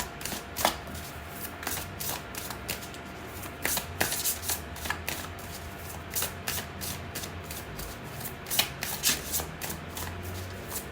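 A deck of cards is shuffled again and again, with crisp riffling bursts and soft slaps of cards evenly spaced, close and clear, and no talk over it.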